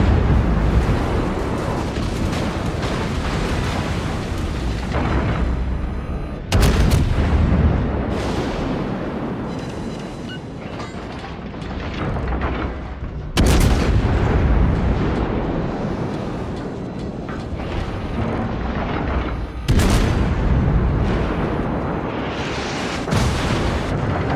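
Heavy naval guns boom in World of Warships aboard the battleship Des Moines, loud broadside blasts arriving in four big salvos spaced several seconds apart, each followed by a long rumbling decay under continuous battle noise.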